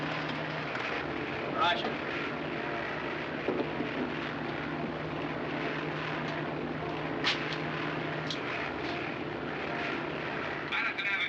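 A World War II bomber's engines in flight through bad weather, a constant droning propeller hum with a steady tone beneath, with radio voices speaking over it throughout.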